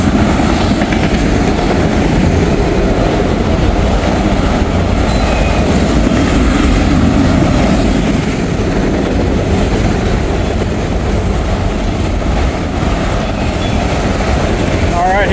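Freight train passing at a rail crossing in Carlisle, loud and close, with continuous rumbling, clattering wheels and occasional squeal across the whole stretch.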